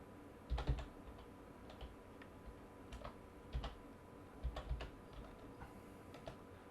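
Computer keyboard keys are pressed for editing shortcuts in scattered bursts of clicky taps at close range, with irregular pauses between the clusters of keystrokes.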